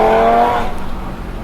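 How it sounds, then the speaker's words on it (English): An 800-horsepower big-turbo Audi TT RS engine revs and roars loudly, then fades into a rough, crackling burble of pops as the throttle drops off. "It's got all those tuner noises, the pops and crackles."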